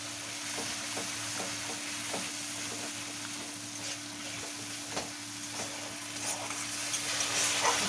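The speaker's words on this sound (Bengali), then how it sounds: "এরপর দিয়ে দেব আদা জিরে বাটা, দিয়ে মশলাটা ভালো করে কষিয়ে নেব।" Masala with ginger-cumin paste frying in a pan for a potato-free doi potol dish, a steady close sizzle with faint stirring clicks running throughout, no voices.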